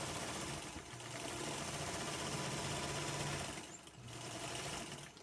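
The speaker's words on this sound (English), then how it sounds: "I'm just going to sew down the drawn line." Sewing machine stitching along a drawn line on a quilt block of gradient-colored fabric, a steady mechanical hum with running stitch rhythm across most of the clip, briefly pausing near four seconds before resuming.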